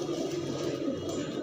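Pigeons coo steadily in a shop selling Punjabi and Madrasi breeds in Ashok Nagar, a low, continuous murmur of many birds close by with no talk over it.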